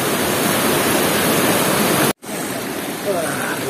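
Clear forest stream water rushes loudly and steadily close by, a continuous broadband flow with a brief break partway through.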